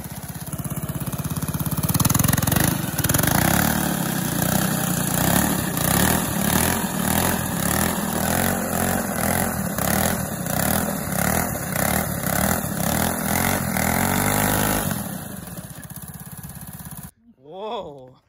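A racing go-kart rolling on wooden wagon wheels drifts while its small engine revs loudly and steadily, a close, buzzing drone that wavers in pitch for about fifteen seconds before cutting off.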